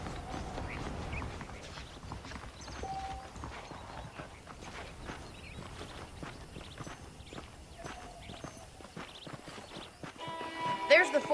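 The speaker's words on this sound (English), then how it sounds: "The horses are saddled up over here." Steady horse hoofbeats clip-clop at a walking pace throughout in the video game Red Dead Redemption, with a horse's whinny and game-like ambient sounds and chimes layered over them.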